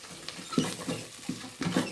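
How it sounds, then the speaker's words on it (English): Thai curry is stirred in a rice cooker. Soft, near scraping strokes come in a loose, uneven rhythm over a faint background, with no talk. "after approximately 1 minute, we keep stirring it."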